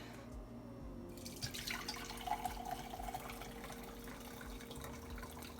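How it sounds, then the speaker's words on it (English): Homemade kombucha strained and poured into a container, a thin trickling stream of liquid that starts after a moment and runs steadily, close and quiet, with no talk. "So now I am going to strain my kombucha into here."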